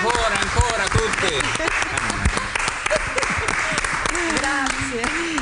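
Studio audience applause on an Italian TV 2000 program, a dense steady wash of many hands clapping throughout, with voices and cheers talking and calling over it.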